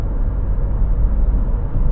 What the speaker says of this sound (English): So there is a little tire noise you can hear